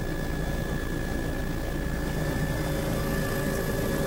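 Steady, loud drone of a survey aircraft cruising low at about 300 feet and 55 knots, heard from inside the cabin as a continuous engine and propeller roar with a constant tonal hum and no voices.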